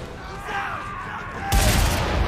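Rapid bursts of gunfire in the Mad Max video game, with a sharp louder volley near the end and game noise and a voice underneath.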